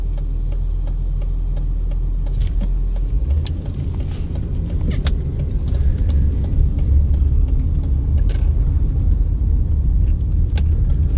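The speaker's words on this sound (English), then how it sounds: "Wait for the cross traffic." Cars in cross traffic pass along a street near Nellis and Cheyenne in East Las Vegas, a steady low road rumble heard from a waiting vehicle that swells slightly as traffic goes by, with no talking.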